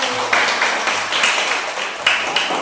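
A class of children clapping together in a classroom, a steady burst of many hands with a few louder accents, fairly close and continuous throughout.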